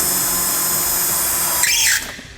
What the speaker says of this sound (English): I'm going to start by making an 1/8 inch hole with an 1/8 inch drill bit